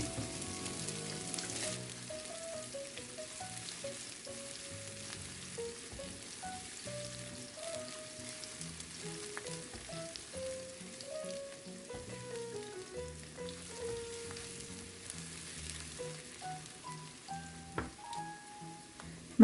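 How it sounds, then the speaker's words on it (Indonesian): Shallots and garlic sizzle in about two tablespoons of hot oil, a soft, steady frying crackle heard up close and alone, with faint scrapes of stirring. "Lalu kita tumis bawang merah dan bawang putih sampai layu dan kecium wanginya."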